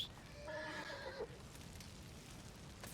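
A horse whinnies loudly in a short rising-then-falling neigh in Red Dead Redemption 2, followed by a faint steady background noise with a few light hoof-like taps.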